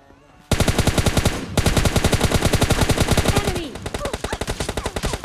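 Rapid automatic gunfire from an AWM sniper rifle in PUBG Lite, in loud, dense bursts of repeated shots that run almost without a break, then thin into a quicker, lighter rattle toward the end.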